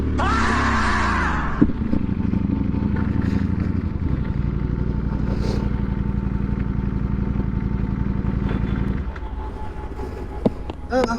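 A Ducati Streetfighter V4 motorcycle engine drones steadily on city streets in Bengaluru after a service, a loud uneven V4 rumble held at low revs with a brief sharper rev at the start and a small blip near the end.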